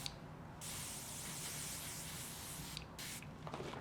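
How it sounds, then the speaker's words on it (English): Cult-favorite hairspray sprayed onto the back of a girl's ponytail for hold: a close, steady aerosol hiss lasting about two seconds, then a shorter burst, with no talking. "So I'm gonna use a little bit of the cult favorite hairspray again,"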